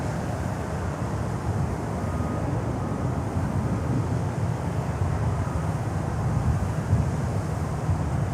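A Boeing 767 airliner arriving at Miami airport, heard as a steady, low broadband engine rumble with wind noise at a distance, holding constant throughout with no voices.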